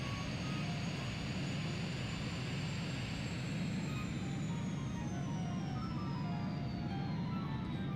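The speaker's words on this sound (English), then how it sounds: "Hope we have better engine sound effects." Jet aircraft engines in the Ace Combat 3 flight game roar as a steady, fairly quiet whooshing drone, with a high whine that slowly rises and then falls away, no voices over it.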